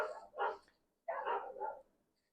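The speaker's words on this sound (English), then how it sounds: "they didn't bark as much as they usually do at the male person" Pet dogs indoors give two close, fairly loud barks, one short and one longer, separated by a brief pause, with no talking over them.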